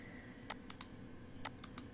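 Computer mouse clicks during right-click copy and left-click paste in cutting software, two pairs of sharp clicks spaced about a second apart, quiet and close, over faint room hum with no talk.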